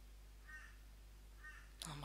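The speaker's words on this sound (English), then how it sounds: "there's a crow in the background" A crow caws twice, faint and distant in the background, spaced about a second apart, before a voice begins speaking at the end.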